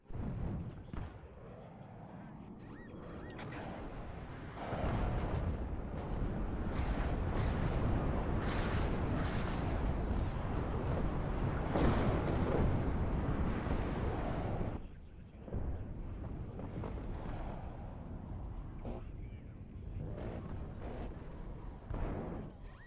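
Bombs explode in the Warno real-time strategy game as a dense, continuous rumble of heavy blasts and artillery-like booms. The bombardment is loud throughout and swells in the middle before easing slightly.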